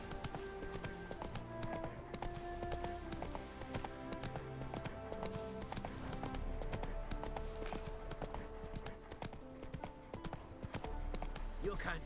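Horse hooves clip-clop steadily in The Witcher 3 video game, a rhythmic trotting gait under game music and ambient sound, with people talking over it.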